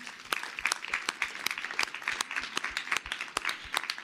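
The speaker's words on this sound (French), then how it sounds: "Merci, on peut les applaudir." A small audience at an evening ecology lecture claps, a sparse scattering of distinct hand claps in irregular rhythm, fairly quiet and near, with no talk over it.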